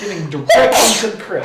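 A single sharp sneeze bursts out close by at a tabletop role-playing game session, surrounded by people talking.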